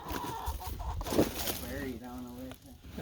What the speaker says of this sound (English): that chicken right there is going crazy because her egg is in there.